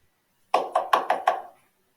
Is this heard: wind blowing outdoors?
no